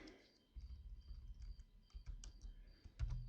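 Fingers type on a computer keyboard, giving soft, close key clicks in short irregular runs over a quiet background.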